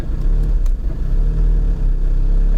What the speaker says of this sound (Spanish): Ahora nuestras RPM están saltando. Tenemos un ralentí inestable.